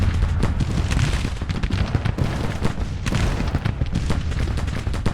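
Dense musket volleys and artillery fire in the Civil War strategy game Grand Tactician, a loud continuous roll of overlapping gunshots and booms with no break.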